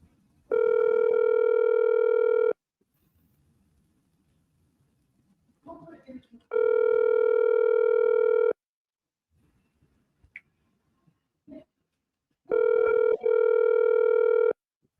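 Phone ringback tone on an outgoing call, three long steady tones spaced a few seconds apart with quiet gaps and faint background noises between them.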